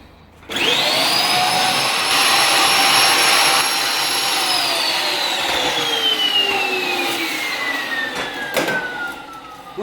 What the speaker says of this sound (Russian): Сейчас мы проработаем это немножко пылесосом.